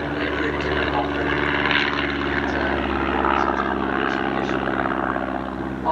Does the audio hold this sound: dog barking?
no